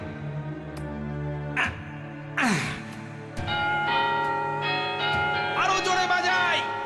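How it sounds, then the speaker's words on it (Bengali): A bell is struck several times in a Gopal Bhar cartoon, each blow leaving a sustained metallic ring that overlaps the next, with voices speaking between and over the strikes. "বাজাও না, ঘন্টাটা বাজাও।"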